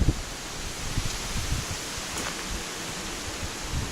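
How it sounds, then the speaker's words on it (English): Wind rushes steadily through a rhododendron tunnel on the Appalachian Trail, a broad, even rustling hiss with small gusty swells and occasional low buffets against the microphone. "It's still windy."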